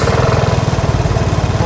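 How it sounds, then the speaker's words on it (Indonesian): A 2022 Vespa Primavera S i-Get scooter with electric start runs just after starting, its engine giving a close, loud, rapid, even putter throughout with no voices. "Oke, itu impresi untuk menyalakan motornya."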